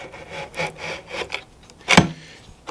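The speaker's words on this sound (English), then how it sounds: "Once that's in place, we simply just have to slide our extrusion" A metal extrusion slides back onto a Jeep JKU seat mount, giving several soft scraping rubs followed by one louder sharp scrape near the end, with no talking.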